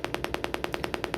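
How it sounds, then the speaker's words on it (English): A speaker pop test signal from a Low Voltage Pro tester: sharp clicks repeat at a steady, rapid pace, about ten evenly spaced pops over a second, crisp and close with a faint hiss between them. "As I press OK, you hear a speaker pop."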